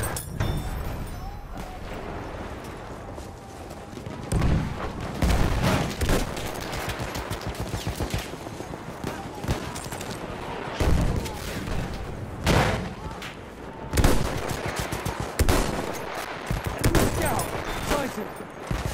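Machine gun fire in a World War I battle game rattles in dense bursts amid scattered rifle shots and booms, loud and sustained over nearly twenty seconds with brief lulls, while voices shout over the fighting.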